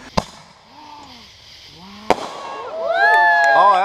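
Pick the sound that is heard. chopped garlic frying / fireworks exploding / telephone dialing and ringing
fireworks exploding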